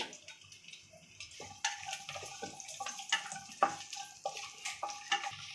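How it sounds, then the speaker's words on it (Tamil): Chopped cashews, raisins and almonds sizzle in hot ghee in a pan while a watermelon rind halwa is being made, with soft crackling and sharp scraping stirs repeating every second or so, close by and moderately loud. "முந்திரி திராட்சை பாதாம் எல்லாமே கட் பண்ணி வச்சுருக்கோம் போட்டு வறுத்து எடுத்துக்கலாம்"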